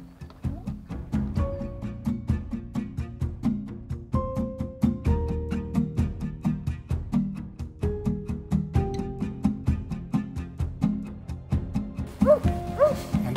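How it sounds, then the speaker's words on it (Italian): A hunting dog working wild boar scent sniffs and pants close by in a fast, steady rhythm, broken by occasional short whines and whimpers throughout. "Lascia lavorare il cane"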